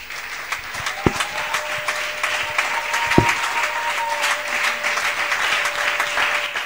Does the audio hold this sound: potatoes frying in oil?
no